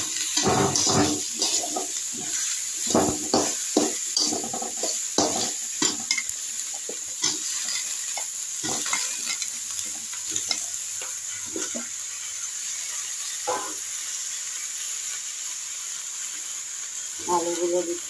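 Vegetables including onion, potato, eggplant and beans go into a hot frying pan one batch at a time, each addition bringing a burst of sizzling and clattering stirring, with someone speaking over the cooking.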